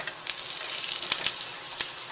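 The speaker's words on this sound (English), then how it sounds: "And let the mushrooms saute." Mushrooms sauté in a hot pan after tofu has been browned in it, with a steady bright sizzle and scattered sharp crackles and pops close by.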